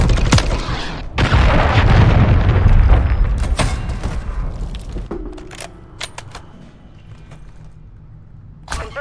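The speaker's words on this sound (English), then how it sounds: "Your cruise missile." A cruise missile strike in a video game lands as a loud, deep boom with crackling blasts, rumbling and fading over several seconds into quieter debris noise, then a sharp crack near the end.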